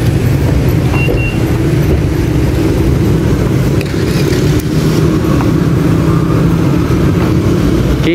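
A car engine revs in a steady, loud, close drone that barely changes in level, with a roadside traffic rumble around it and no talk.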